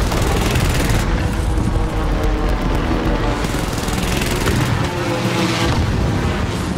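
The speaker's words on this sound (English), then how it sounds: "Airstrike incoming." Dense, continuous rumbling explosions of an airstrike in Call of Duty Warzone, loud and close, with heavy booming blasts rolling together and no voices.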